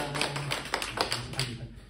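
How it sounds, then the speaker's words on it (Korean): A small church congregation in Modesto claps briefly to welcome a visiting friend during Sunday worship, a short patter of scattered hand claps with a voice underneath. "우리 환영의 박수 할까요?"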